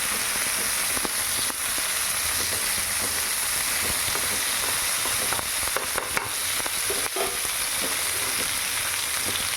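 Jackfruit and potato sautéing in a pan for biryani, a loud close-up frying hiss and crackle throughout, punctuated by scraping stirs against the pan.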